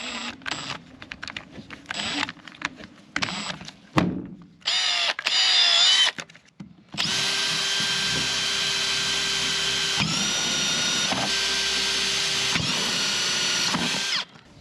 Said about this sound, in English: so I'll just drill some 16mm holes in the box